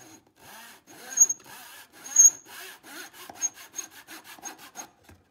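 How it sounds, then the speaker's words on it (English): Hand saw cutting a wooden popsicle stick in a miter box, a series of short rasping back-and-forth strokes, slow at first then quicker and lighter, close and alone. "I'll be using the Easy Miter box to help me cut a straight edge."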